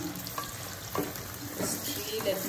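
Tomato sizzles in a pan while chow mein cooks, a steady close hiss broken by soft stirring scrapes and clatter, with a faint voice now and then.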